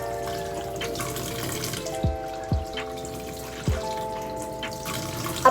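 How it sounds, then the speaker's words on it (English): Tap water runs steadily over arms and hands at a sink during a handwashing routine, with a few brief splashes and drips breaking the continuous flow. "Make sure that the water flows from the arms to the fingertips."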